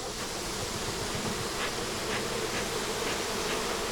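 A dense, steady buzz of honey bees at an open hive sits close and constant throughout, with a few faint taps of frames and wax handling underneath.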